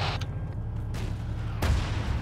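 Gunfire in the video game Arma 3 cracks out in a few sharp reports, one loud close shot near the end standing out against a rumbling low background.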